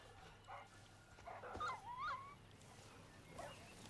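A dog whimpers and yips in a video game, a few short high whines and a brief bark rising over quiet background ambience, moderately close but soft.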